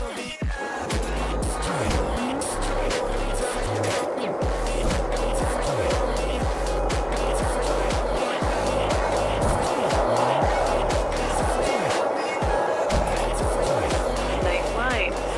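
Skateboard wheels roll and carve steadily through the San Van streets in the video game Skate, with pushes and board scrapes repeating under continuous game music and a voice talking throughout.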